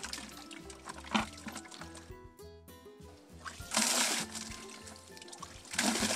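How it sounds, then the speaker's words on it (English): Water from a hand pump on a hand-dug shallow well gushing and spraying in uneven surges into a bucket, splashing bursts swelling and fading, with clanking metallic tones from the pump between spurts. "you want to let it pour out so that it sprays into your bucket"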